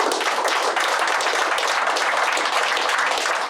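Dense, steady applause from an audience at a talk, a close wash of many hands clapping without pause.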